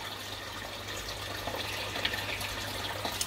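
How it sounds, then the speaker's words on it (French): Water cascades steadily into the sump of a living-room discus aquarium, a fairly quiet, continuous splashing rush with small irregular surges and no voices. "Donc on entend le bruit de la cascade ici."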